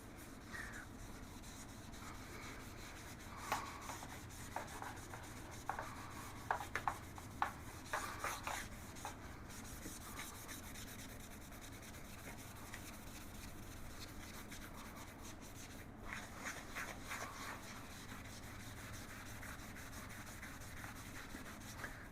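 A cleaning pad scrubs scratched plastic body panels of a 1996 Yamaha Wolverine ATV with a soapy degreaser, making soft, continuous rubbing strokes that are fairly faint, with a few sharper scraping bursts scattered through.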